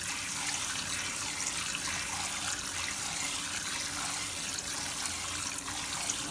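Water sprays from a shower head onto salty potting soil in a steady, broadband hiss with a faint patter, unbroken and fairly close, lasting several seconds with no talking.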